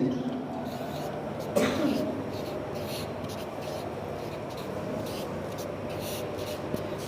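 Chalk or marker scratching across a classroom board as a teacher writes, a soft continuous scraping with brief strokes, under a quiet roomy background hum.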